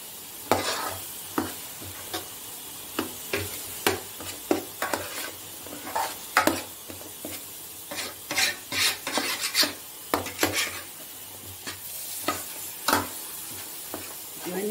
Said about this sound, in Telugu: ఇవన్నీ వేసాక మరొకసారి బాగా కలుపుకోవాలి